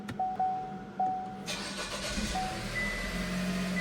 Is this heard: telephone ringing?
no